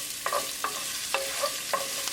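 Ginger and garlic stir-frying in a pan for a mushroom dal, a steady close sizzle broken by four distinct scraping stirs spaced roughly half a second apart, with no talking.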